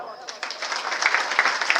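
Audience applause at a civic felicitation ceremony, a dense wash of many hands clapping that holds steady and swells slightly toward the end, moderately loud and close.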